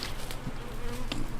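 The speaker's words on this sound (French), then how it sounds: "On voit les abeilles quand même qui bougent, qui sortent, qui rentrent" Honey bees move in front of a beehive, a steady close buzzing hum with a few louder individual bees flying past the hive entrance.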